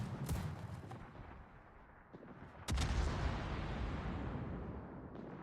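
Naval gun salvos in World of Warships, with shells striking and ricocheting off the battleship Tennessee: a sharp blast near the start, another at about 2.7 seconds, then a sustained rumbling roar, no talk.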